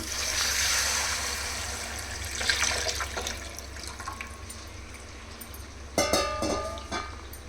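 Water is poured into a pot of rice being cooked for chicken fry biryani, a close rushing splash at the start, then quieter sloshing and a second splashy pour near the end.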